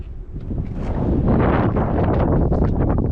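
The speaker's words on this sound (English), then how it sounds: "There's that mountain wind." Strong mountain wind on the open summit of Mt Wachusett above the trees, loud gusting roar buffeting the microphone, building and staying heavy without speech.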